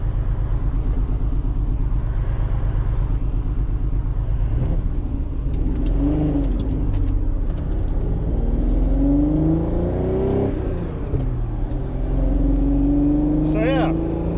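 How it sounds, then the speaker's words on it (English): A Ferrari Testarossa on a test drive, its engine droning loudly and rising through revs with several climbing pitch sweeps, heard up close with a steady wind-like roar underneath. "Testarossa test drive number 2"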